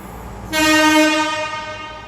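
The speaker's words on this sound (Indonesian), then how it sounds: "Kereta LRT Palembang" A Palembang LRT train horn blasts loudly about half a second in and holds for roughly a second, then fades into the rumble of rail traffic.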